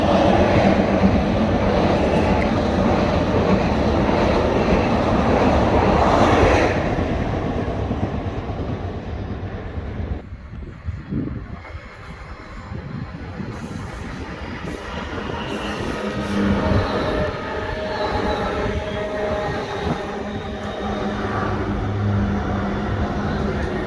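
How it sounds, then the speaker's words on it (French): An RER commuter train at Houilles-Carrières-sur-Seine station gives a loud, close, steady rumble that eases off midway, then returns as a continuous broadband roar. "je voyais le RER derrière, je me disais, bah attends, il a commencé à partir, puis il s'est re-arrêté."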